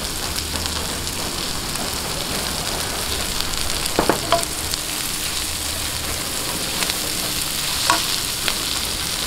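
Leftover sisig sautéing in a hot pan with chopped green onion, a steady close sizzle and fry hiss throughout, broken by a few sharp clinks of a utensil against the pan.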